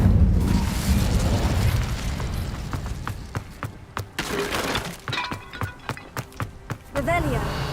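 A fiery spell bursts in Hogwarts Legacy with a loud shattering crackle and whoosh, then a run of sharp, evenly spaced clicks and snaps, ending in a fluttering magical shimmer.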